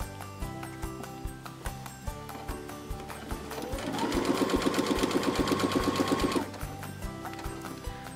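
A sewing machine stitches a zippered pencil pouch, its rapid, steady needle rhythm running loud and close for a few seconds between quieter mechanical ticks before and after.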